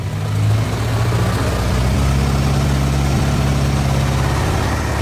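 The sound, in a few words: Isuzu 6UZ1 excavator engine running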